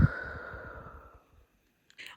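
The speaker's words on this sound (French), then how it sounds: "je vais faire 5 respirations très profondes" A single deep, slow exhale, like a long sigh, trails off into quiet, followed by a brief rustle; nearby and fairly soft.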